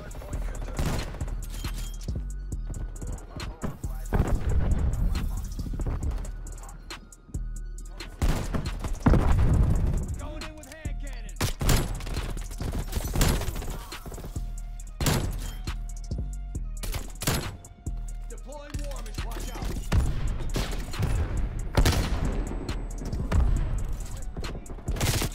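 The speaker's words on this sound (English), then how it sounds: "He just started shooting as soon as he came up." Bursts of gunfire and explosive thuds in a Call of Duty: Cold War multiplayer match, loud and near, repeating in clusters throughout, with a Magnum pistol among the weapons and occasional talk mixed in.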